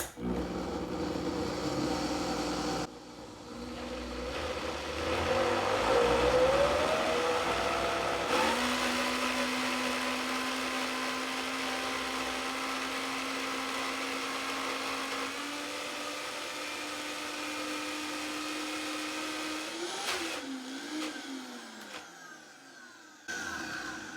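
A Vitamix blender churns a thick non-chickpea hummus, a loud steady motor whir with harmonic drone that shifts pitch as the load changes, bogging slightly and rising near the end before cutting off.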